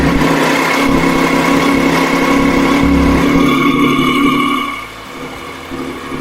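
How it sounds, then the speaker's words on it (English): A Triumph Street Triple R motorcycle engine runs with a steady buzzing drone and harmonic whine, close and loud, then drops in level as it settles near the end. "So now let us try whether the engine will start up."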